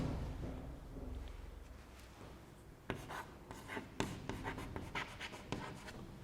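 Chalk or marker writing on a board during a high-school physics lecture, a series of scratchy strokes and taps in bursts over a low room hum, fairly close, with no talking.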